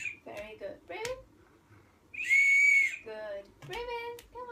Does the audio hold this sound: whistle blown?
yes